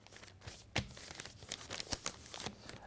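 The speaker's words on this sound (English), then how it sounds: "and then crumple it a bit" A single sheet of newspaper is folded and then crumpled by hand, giving close, dry crinkling and crackling bursts with a few sharper snaps over about three seconds, and no voices.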